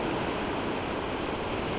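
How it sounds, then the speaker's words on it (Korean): Ocean waves washing onto a beach shore, heard as a loud, steady, unbroken rush of surf with no pauses and no voices. "파도 소리 조금 담아보고"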